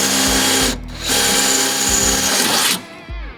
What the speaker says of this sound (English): next had to drill some holes so that once the J-clips are on, there are a path for the screws to go through.